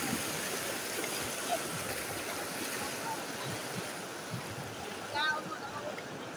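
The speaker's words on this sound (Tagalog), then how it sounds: "Lakas ng agos." Strong river current rushing past in Barangay Labe, Bungabon, Nueva Ecija, a steady broadband wash of flowing water filling the whole clip, with a brief louder splash near the end.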